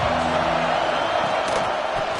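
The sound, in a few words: stadium crowd cheering at a football game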